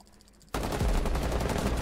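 Rapid automatic gunfire in Rainbow Six Siege erupts after a brief quiet, a dense sustained burst of shots with heavy low-end thump, loud and close.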